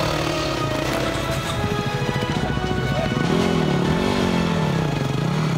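A Yamaha WR250R dirt bike engine revs and pulls away as the clutch is dropped, a loud mid-pitched engine note that rises and wavers, with people talking close by.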